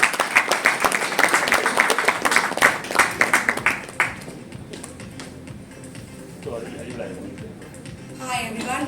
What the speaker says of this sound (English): Can we please invite Sanchi with a big round of applause